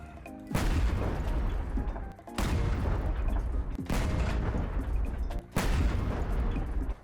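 Heavy weapon shots from armored combat vehicles in the Crossout video game: four loud, booming blasts fired at a steady interval of about two seconds, each with a long rumbling tail, with no talking.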